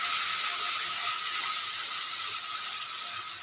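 Spice paste sautéing with fish in a pan, a steady bright sizzle that holds evenly at close range with no voices over it.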